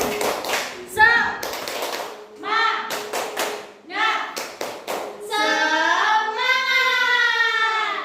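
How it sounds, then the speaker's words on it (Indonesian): Elementary school pupils in a classroom perform a rhythmic spirit clap led by the class leader, with short bursts of clapping and taps mixed with children's chanting voices. "mari kita melakukan tepuk semangat"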